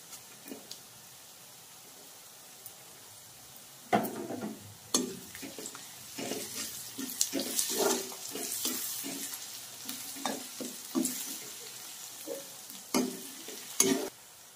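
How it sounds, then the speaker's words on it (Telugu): Curry leaves and onions frying in oil for egg fry, a soft steady sizzle with repeated scraping and clinking of a spoon stirring the pan, louder after the first few seconds, no voices. "ఇప్పుడు ఇందులో మనం కరివేపాకు వేసుకుందాం."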